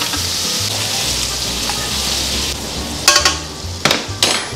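Crab legs, crab roe and Brittany blue lobster meat fry in a pan with a close, continuous sizzle, and a few sharp clinks of a utensil against the pan come near the end.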